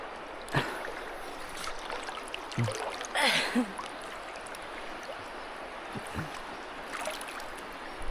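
Water flows through a forest stream at night, a continuous rushing wash with scattered splashes and gurgles, fairly close, while faint voices sound in the background.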